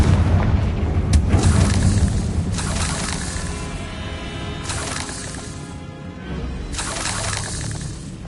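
In the video game Hogwarts Legacy, the Confringo blasting spell sets off loud explosions: several booming, shattering bursts, each followed by rumbling debris, spaced a couple of seconds apart in a close, dense mix.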